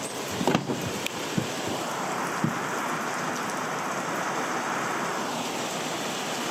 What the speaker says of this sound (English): Caught in a brief summer shower.